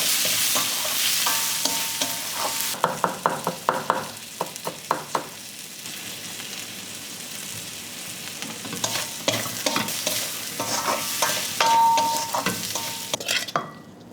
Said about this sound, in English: Add the tomatoes, just cook it for a minute